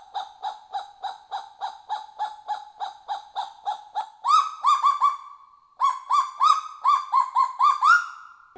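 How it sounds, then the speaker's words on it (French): A male kagu calls with a long run of short, evenly spaced barking notes, then shifts into louder, rising whistled phrases, close and alone. "Et voici le cri du mâle."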